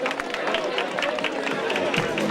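An audience at an emigrant gathering in Glogji applauds during a fashion show, a dense, steady patter of many hands clapping together throughout, with a voice talking over the crowd.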